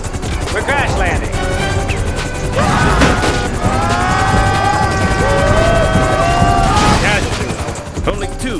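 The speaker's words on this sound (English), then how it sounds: "Bad news is we're crash landing." Game helicopter going down during a GTA Online casino heist: rotor and engine roar with alarm-like tones and crashing, gunfire-style impacts, loud and close, with voices talking over it.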